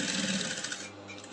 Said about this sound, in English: So I'm sewing following my chalk lines.